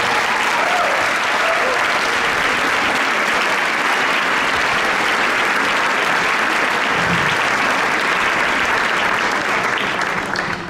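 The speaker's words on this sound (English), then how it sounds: "What about another round of applause for Grace Butcher, first alto player." Sustained, loud audience applause for a young alto saxophone player after a jazz band performance, a dense even wash of clapping that holds steady for about eleven seconds with a slight tail-off at the end.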